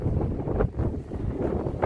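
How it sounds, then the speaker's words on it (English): Strong wind buffets the microphone outdoors beside a 2020 Chevy Traverse during an oil change, a steady rumbling roar with gusty surges and no talking. "it's pretty windy today."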